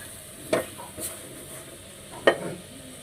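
Spice masala frying in a pan: a steady low sizzle runs underneath while a spatula scrapes and stirs in two sharp bursts, with a light tap between them, close and fairly quiet.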